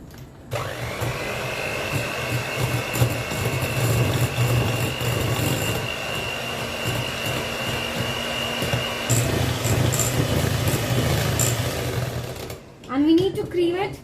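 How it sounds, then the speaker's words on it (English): An electric mixer whirs steadily, creaming butter and sugar for lemon ginger cookies, with a continuous motor drone that changes pitch partway through and then cuts out near the end. "You can cream it until it's pale, and while you're creaming, do not forget to scrape down the sides so all the sugar and the butter is incorporated"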